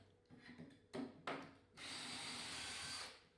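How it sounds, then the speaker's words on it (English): Some handling knocks and short bursts, then a power drill whirs steadily into wood for over a second before stopping. "I'm going to drill about right there."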